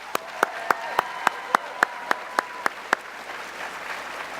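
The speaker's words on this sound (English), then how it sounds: "Can we give him a round of applause?" At a high school senior awards event, about eleven evenly spaced single claps ring out sharply and close, a steady rhythm over a faint room murmur, then stop.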